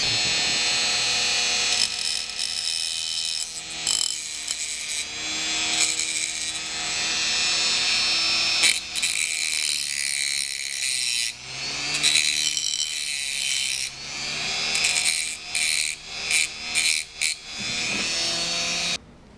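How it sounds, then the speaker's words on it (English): A rotary tool with a cutting disc grinds loudly against a T8.1 magazine follower, sustained high whining cuts interrupted by brief pauses and restarts. "I flipped the disc on my rotary tool again"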